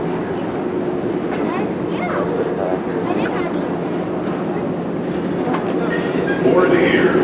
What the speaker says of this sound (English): The train is arriving. Please keep clear for passengers exiting the train.